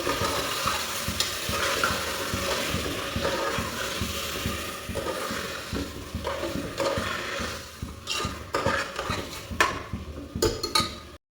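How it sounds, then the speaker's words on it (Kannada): Mutton stirred and fried in a spiced tempering in a pan: a continuous loud sizzle with steady scraping and clinking of a spoon against the pot throughout. "ಒಗ್ಗರಣೆ ಒಳಗೆಲ್ಲ ಇವಾಗ ನೀಟಾಗಿ ಮಟನ್ ಎಲ್ಲ ಮಿಕ್ಸ್ ಮಾಡಬೇಕು"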